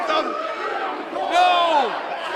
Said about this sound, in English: Strider asking the crowd to count with him.